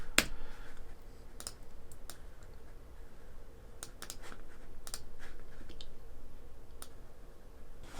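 Sharp computer mouse clicks while editing a photo to remove objects, a few scattered taps over quiet room tone with no speech.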